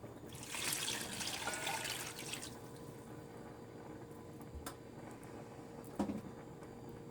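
Water pours from a tap into a pot of chicken for curry stew, a soft trickling splash that is strongest at the start, then fades to quiet background with a few faint clinks.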